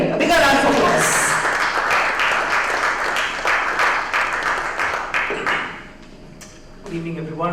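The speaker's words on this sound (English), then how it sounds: "Come on, everybody, a bigger round of applause." An audience at a press conference for a city 10K run applauds with dense, sustained clapping that fades near the end as a voice begins speaking.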